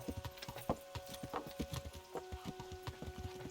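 Horse hooves clip-clop in a steady trotting rhythm in Kingdom Come: Deliverance, close and distinct, the beats continuing throughout over a faint sustained tone, with no talking.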